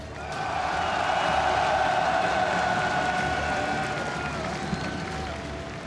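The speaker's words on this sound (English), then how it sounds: "un tonnerre d'applaudissements" A Parisian crowd at the Mid-Season Invitational esports semifinal applauds and cheers in a steady, moderately distant wash that swells and then slowly eases off.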